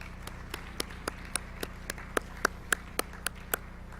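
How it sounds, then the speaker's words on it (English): Faint, sparse claps sound at a Cape Henlopen Leo Club induction ceremony, roughly a dozen evenly spaced claps over four seconds against a low steady hum. "if you could please give them a round of applause"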